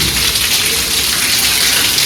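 Steady, heavy rain pours down close by, a dense continuous hiss of drops hitting surfaces with no voices.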